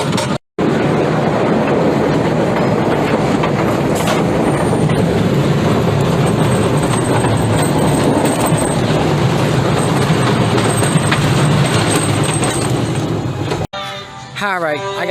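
Great American Scream Machine, a wooden roller coaster, with its train rumbling loudly and steadily along the track for most of the run, ending in a short dropout and a brief different sound at the close.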